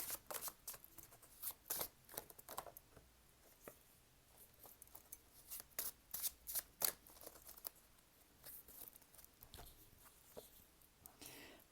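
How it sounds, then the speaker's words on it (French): Tarot cards being shuffled and drawn, giving soft, irregular flicks and slides of card stock with brief sharper snaps, fairly close and quiet, with no voice. "je prends une des dernières cartes avec la triade"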